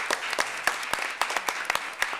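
A small group at a school district board meeting applauds donors, a thin round of distinct, individual claps at a loose uneven rhythm, fairly quiet in a room.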